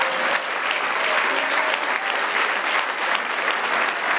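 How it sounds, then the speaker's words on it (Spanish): A large crowd claps continuously, a dense steady roar of applause that holds at an even level from start to finish. "Denle un aplauso al Señor."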